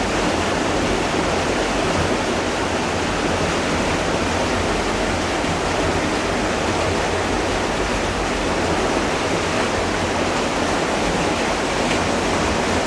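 Powerful, unbroken roar of rushing water at a mill, a dense, loud wash of noise that holds steady for the whole stretch with no voices.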